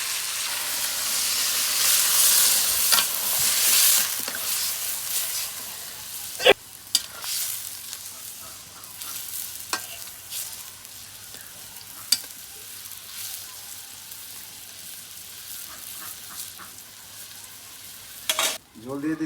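Country chicken sizzles in a pan as gravy is added. A loud hissing splash comes first, then a quieter ongoing simmer with occasional clinks of stirring.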